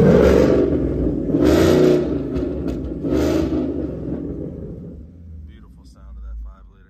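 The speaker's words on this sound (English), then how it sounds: "Beautiful sound of that 5-liter, 6-speed manual transmission" A 2014 Ford Mustang GT with a 5.0-liter V8 and six-speed manual is revved hard in a few loud, close bursts before settling back to a deep, rumbling idle.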